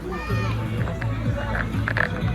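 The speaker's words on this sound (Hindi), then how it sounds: "बहुत पॉल्यूशन है, देखिए भीड़, और भीड़ देखिए, भीड़।" A dense crowd fills the World Book Fair in Delhi with a steady murmur of voices and footsteps, while someone talks over it nearby.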